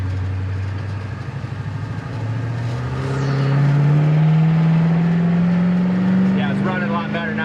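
A 1966 Chevrolet Impala convertible V8 idles at a stop sign while warming up, a steady low rumble that rises slightly in pitch partway through, loud and close.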